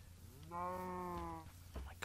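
Cows mooing in the Minecraft video game, one drawn-out harmonic moo at moderate volume, followed by a person talking.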